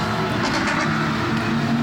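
GT race cars roar past through the Bruxelles turn during the Spa 24 Hours at night. A dense engine drone from several cars is heard in a brief, loud burst.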